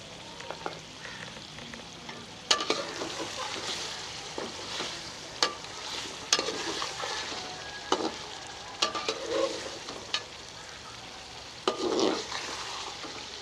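Fish karahi frying in a pan, a constant close sizzle broken by scraping, clinking stirs of the spoon against the metal pan at irregular intervals, no talking.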